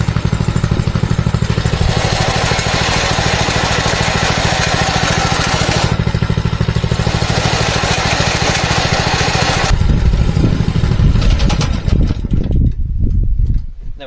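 A mini bike engine runs steadily with a loud, rattling mechanical drone throughout, its pitch shifting near the end as the small motor revs and falters.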